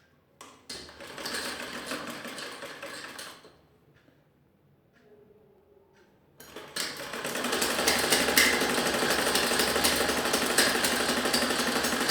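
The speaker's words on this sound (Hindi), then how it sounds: "यहाँ से सिलने के बाद हम इस तरफ का आसन भी सीधे से सीधा मिला के सिलाई कर देंगे" An electric sewing machine stitches the seat seam of a Ludhiana-style salwar, running in a steady mechanical whir for a few seconds, pausing briefly, then resuming louder and continuous.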